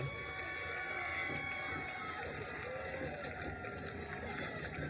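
Crowd at a Tampa Bay Inferno vs Pittsburgh Passion women's football game, a steady distant murmur and faint cheering from the stands, moderately quiet, with no clear talk.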